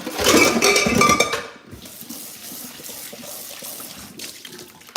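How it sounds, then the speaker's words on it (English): Bell peppers being washed in a kitchen sink, a loud rush of tap water with clattering dishes and utensils for a second or so, then quieter trickling and handling. "So I'm going to go ahead and clean my peppers, wash them, get all of this stuff out."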